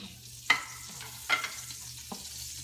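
Garlic sizzles in a hot pan, with a steady frying hiss and a few sharp stirring scrapes of the utensil against the pan.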